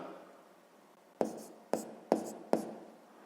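A pen writes a math answer by hand on paper, making four quick, sharp strokes spaced evenly in a row. They are faint and close, against a quiet background.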